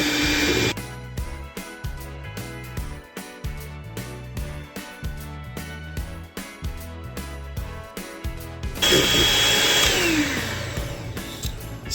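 An electric mixer beats apple spice cake batter with a loud, steady motor whir that keeps pulsing in a rhythmic pattern, then swells to a harsher, fuller whine near the end.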